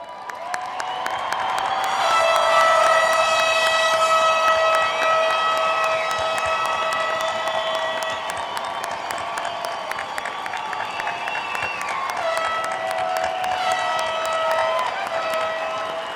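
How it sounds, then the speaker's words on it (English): A commencement crowd at the Oregon Institute of Technology gives a standing ovation: loud, sustained applause mixed with stomping thuds, yelling and long shrill whistles and horn-like tones, swelling early and carrying on to the end. "a standing, stomping, yelling, enthusiastic round of applause"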